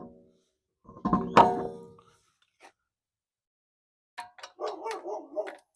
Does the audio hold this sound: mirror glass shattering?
no